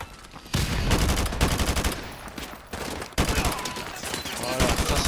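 Call of Duty Modern Warfare 2 gameplay carries bursts of rapid gunfire and a sharp grenade blast, loud and layered with dense action noise throughout.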